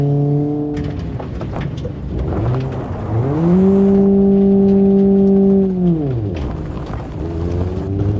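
Ibishu Hopper Classic engine in the BeamNG.drive racing game, a loud steady drone that climbs in pitch, holds a sustained high rev, then drops back and rises again on a lap; no talking.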